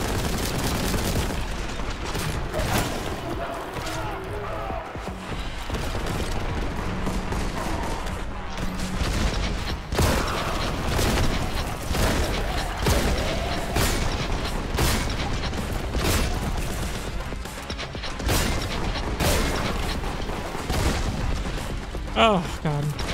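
Dense, continuous enemy gunfire and explosions in the shooter game Warhammer 40,000: Boltgun: rapid bursts and booms layered throughout, loud and busy, with a player's voice speaking over parts of it.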